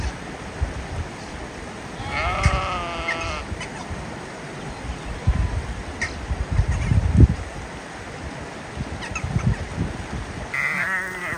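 Sheep bleating on a mountain pasture, several wavering calls at varying distance over outdoor background noise, with other livestock nearby.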